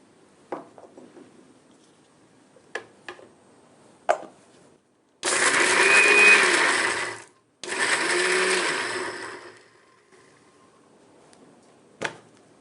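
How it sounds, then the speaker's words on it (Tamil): A mixer grinder grinds cumin, ginger and garlic into a paste in two loud whirring bursts of about two seconds each, separated by a brief pause. Scattered clicks and knocks from handling the jar come before and after. "இது நல்ல மைய அரைக்க வேண்டியது இருக்கும்."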